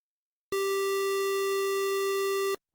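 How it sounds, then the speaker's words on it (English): A synthesized pulse-wave tone from a game sound editor sounds as one steady buzzy note held for about two seconds, then stops abruptly, clean against silence. "That's like a pulse wave."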